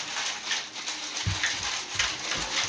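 An Ice Cream Magic ice cream maker is shaken, making a soft, continuous rattling swish, with a few low thumps marking the strokes partway through, heard alone at a modest level.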